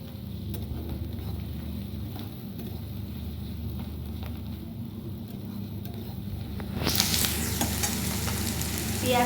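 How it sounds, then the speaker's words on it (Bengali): Onions fry in a pan for a tarka dish with a steady low sizzle and occasional stirring scrapes. Near the end the hiss swells sharply brighter and louder, and no one speaks. "পেঁয়াজটা খুব ভাজা হবে না"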